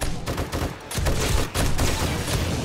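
Dense, loud sustained gunfire in the 7 Days To Die video game, rapid overlapping shots filling the whole stretch with only a brief dip partway through.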